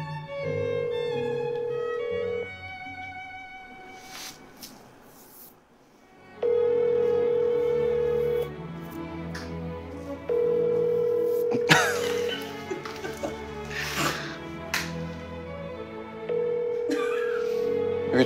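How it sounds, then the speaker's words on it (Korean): A phone call's ringback tone repeats in long steady bursts with pauses between, loud and clear, while some shuffling and handling sounds occur between rings. "사나 전화 한번 해볼까"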